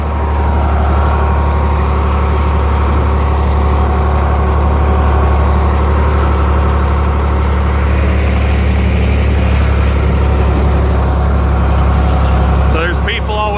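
A John Deere 5020 tractor engine running at low speed around 400 RPM while harrowing wheat stubble, a loud, steady, deep rumbling drone held close throughout, with a voice talking over it.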